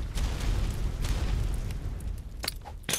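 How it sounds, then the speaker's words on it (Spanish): Explosions in the survival game Ark: Survival Ascended, heard as a dense rumbling barrage of booms followed by a few sharp, loud bursts near the end. "Todas esas explosiones, loco"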